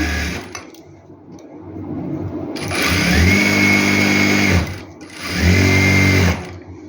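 Domestic sewing machine stitching a seam on a farshi salwar, running in two sustained bursts of steady mechanical whirring with a short pause between, close and loud with no talking.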